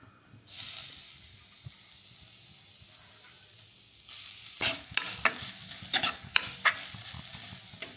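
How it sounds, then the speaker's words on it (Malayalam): Food dry-roasting in a small pan gives a soft steady hiss, then a run of scraping, clattering stirs that come in quick uneven bursts, close by and with no voices. "ചെറുതായിട്ട് ഈ ചീഞ്ചട്ടിയിൽ ഇട്ടിട്ട് റോസ്റ്റ് ചെയ്തെടുക്കാം"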